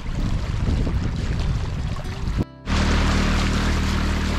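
A yacht sails on Lake Bełdany in the Masuria lakes, wrapped in steady broadband wind and water rush with a brief dropout partway through.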